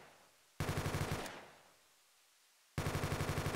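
G36C rifle firing in a Roblox Studio game, two loud close bursts of rapid automatic shots separated by a quiet gap with a fading tail.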